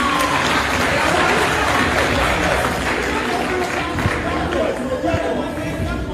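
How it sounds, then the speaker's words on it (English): Students fill a hall with steady applause at a political party rally, the clapping mixed with crowd chatter and voices throughout. "Clap for yourself."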